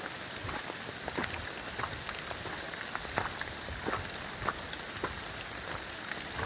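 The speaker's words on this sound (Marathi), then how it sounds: "पाऊस आला आहे" Steady rain patters on leaves and surfaces all around in a Sahyadri forest, a dense even hiss with scattered louder drops close by.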